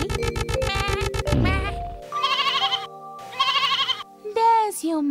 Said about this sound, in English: You are a lamb, a sheep's baby, so you bleat.